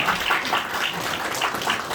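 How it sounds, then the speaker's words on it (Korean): An audience at a theological graduate school degree ceremony claps in congratulation for award recipients, a dense, even wash of applause sustained throughout with no clear individual claps standing out. "다 함께 크게 축하의 박수 주시기 바랍니다"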